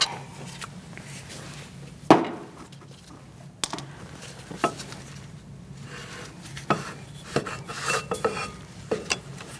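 Metal clinks and scrapes as a Mercedes-Benz C300 front brake caliper is handled and hung up in a workshop: several sharp, close clanks and light rattles scattered irregularly over low background noise.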